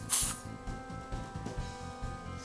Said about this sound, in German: und sprüht euch die Tolle fest.